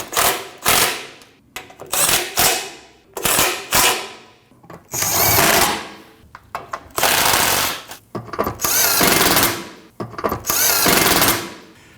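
Power tool driving the radiator cooling fan bolts on a 2012-2021 Nissan NV2500 5.6L V8, loud close bursts of buzzing and whirring in repeated short runs, with a few longer pulls toward the end.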